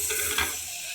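Ground masala stirred in a sizzling pan for tomato bath, a brief close scrape of the spoon over a steady frying hiss, with no voices.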